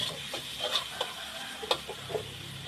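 Pork and onion stir-fried in a pan for a Thai basil dish, with a steady sizzle and scattered light scraping clicks from the spatula, close and moderately quiet.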